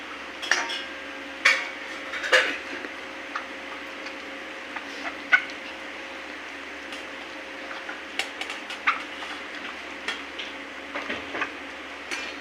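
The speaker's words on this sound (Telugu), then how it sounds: "ఇది మనం పెరుగులో బాగా కలుపుకొని పక్కకు పెట్టుకోవాలి" Garam masala powder stirred into yogurt in a bowl for paneer butter masala, a spoon scraping and clinking against the bowl in scattered light taps and soft swishes over a faint steady background hum, with no talk.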